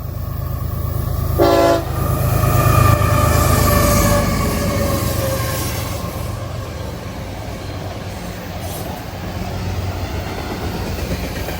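A CSX freight train of loaded auto racks rolls past close by with a steady loud rumble and rattle of cars, a brief horn blast early on, the roar easing slightly before building again.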